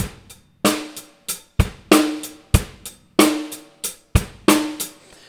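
A simple drum kit beat with kick, snare and cymbal hits in a steady rhythm, close and clear, with no voices.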